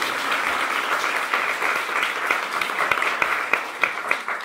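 Sustained audience applause, many hands clapping steadily at moderate volume with a few sharper claps standing out near the end.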